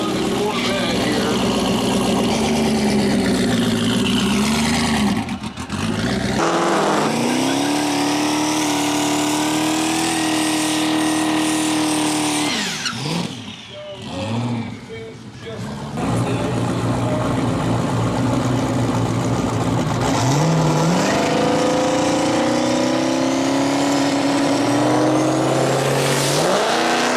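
A third-generation Camaro and a Corvette race, loud engines revving and shifting through gears with rising and falling pitches, a brief lull midway, then hard acceleration again, with people talking over the roar.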